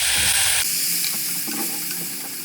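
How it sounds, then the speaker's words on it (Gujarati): Water goes into a pan of spiced bottle gourd curry cooked with turmeric and coriander-cumin powder, a short burst of pouring and sizzling that quickly settles into a softer hiss. "ત્યારબાદ એમાં થોડુંક પાણી એડ કરવાનું છે."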